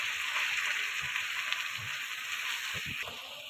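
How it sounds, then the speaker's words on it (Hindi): Potatoes added to minced meat (keema) and frying in hot oil, giving a steady, close sizzle with soft popping and crackles throughout, with no talk. "अब हमने जो आलू रखे थे ये इसके अंदर ऐड करते और इनको भी हमने भूनना है अच्छी तरह"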